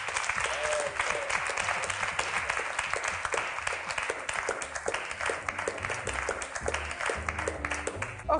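Studio audience on an Italian cooking show breaking into sustained applause, dense steady clapping from a crowd lasting throughout with no talk over it.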